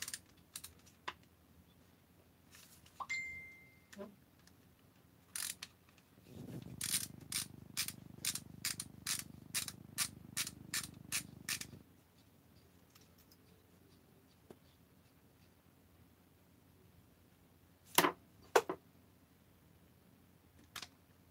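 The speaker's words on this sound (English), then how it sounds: "I'm just going to take apart the carburetor and kind of see what's up." Small metal tools click and tap while a leaf blower's carburetor is taken apart, with a burst of rapid ratcheting clicks in the middle and scattered sharp knocks on either side, all close and quiet.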